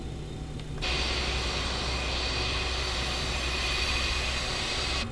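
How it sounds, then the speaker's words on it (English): Engines of an SAS BAe 146 jetliner in Microsoft Flight Simulator 2020, flying Oslo to London City: a steady, loud jet roar with a high whine that surges in after a quieter opening and holds without pause. "Enjoy the sounds of the BAE146, here we go."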